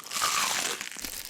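A crumble-coated fried chicken piece gets a crunchy bite, a short bright burst of crackling with a softer crinkly tail, close and alone with no talking.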